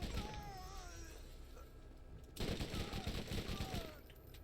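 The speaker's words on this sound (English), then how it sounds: "With the increased fire rate after a kill, it makes this SMG now like where I want it to be." Submachine gun fire in the video game BorderQuest, with a rapid burst of shots in the second half that follows a quieter stretch of game ambience. The gunfire is fairly faint overall.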